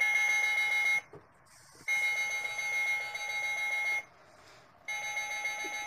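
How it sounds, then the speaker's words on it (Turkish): A digital illuminated wall clock alarm beeps in rapid bursts, steady electronic tones repeating with two brief pauses, fairly loud and close. "Alarmı belki bir saat, bir buçuk yazdığı için de yine çalıyor"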